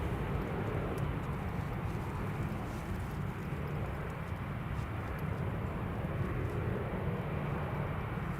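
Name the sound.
Ryanair airplane taking off in stormy weather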